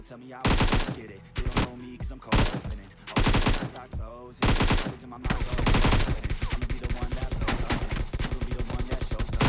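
Automatic gunfire rattles in PUBG Mobile while targets are shot from behind cover: several short, loud bursts separated by brief pauses, then one long sustained stream of rapid shots.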